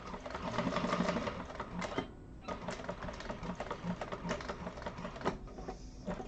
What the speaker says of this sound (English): you just want to sew to that line.